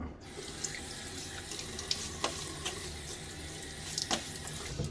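Tepid tap water runs steadily into a sink while preparing for a shave, a continuous close splashing rush with a few brighter clinks, no talking.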